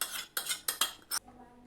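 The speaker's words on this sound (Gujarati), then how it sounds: "વઘારને આપણે બેટરમાં નાખી દઈશું." Hot tempering being poured into a batter with a metal spoon, which scrapes and clinks against the pan in five quick bursts before the sound falls quiet.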